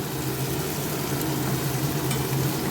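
Soaked moong dal frying in a pan for sabudana khichdi, a loud, dense, continuous sizzle heard up close with no pause throughout.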